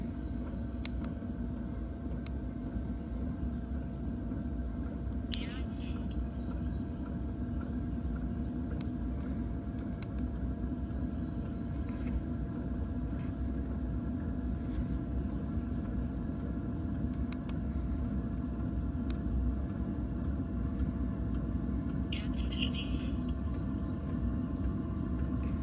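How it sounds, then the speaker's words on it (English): Diesel fuel pump of a Maxspeedingrods camping diesel heater runs as a steady low droning hum throughout, with a couple of faint clicks and no talking. "All right, the diesel pumps came on."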